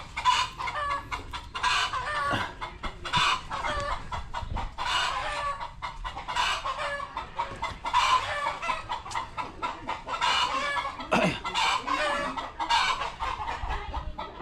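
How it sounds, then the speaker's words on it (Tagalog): Several chickens cluck and squawk continuously nearby, with a rooster crowing partway through amid the busy farmyard chatter. "Yan, mga manok"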